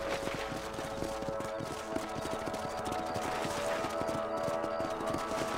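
Horse hooves gallop in the Red Dead Redemption video game, a steady, rhythmic clip-clop that runs loud and close throughout, over a dense bed of game ambience and music.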